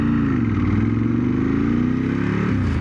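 A Ducati 916 motorcycle on a ride, its engine droning loud and steady close by with a throbbing, rising pitch and a slight shift near the end.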